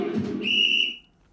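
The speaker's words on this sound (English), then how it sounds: "Where's the whistle?" A single short, shrill whistle blast rings out close and loud for about half a second, preceded by a brief rustle, during a sports talk show.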